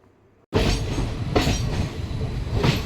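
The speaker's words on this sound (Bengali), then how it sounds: "টানেলে ঢোকার সময় ট্রেনটা একদম স্লো হয়ে যায়" After a quiet moment, an express train's rumble suddenly swells loud and enclosed as it slows entering a tunnel, a dense roar of wheels on rails echoing close by.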